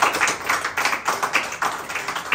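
Congregation clapping hands together during an upbeat church worship moment, a steady rhythmic run of claps about four per second, fairly close and lively, with no talking over it.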